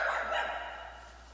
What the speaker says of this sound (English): I know why that dog barking.